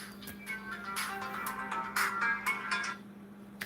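A phone's ringtone goes off on a second phone that was supposed to be on silent, a repeating bright electronic melody in short bursts playing alone against a faint background hum.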